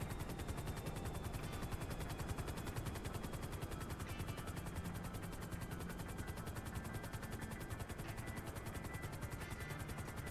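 A large spy plane flies low overhead in Grand Theft Auto, its loud, steady drone rumbling continuously and close without letup, with gunfire-like crackle mixed into the dense engine roar.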